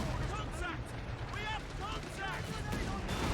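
Strafing-run gunfire in Company of Heroes 3, a dense rumble of distant shots and blasts rolling under a battlefield din, with someone talking over it throughout.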